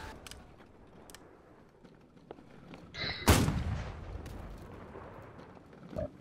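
Cannon fire on a naval battlefield in the video game Holdfast: Nations at War, one loud booming blast with a long rumbling tail over steady background battle noise, and a smaller thud near the end.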